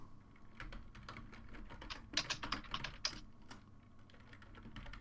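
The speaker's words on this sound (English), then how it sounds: "I'm typing passwords and such" Passwords being typed on a computer keyboard: a steady run of quick, uneven key clicks, close and fairly loud, with a denser, sharper burst in the middle, and no talk over it.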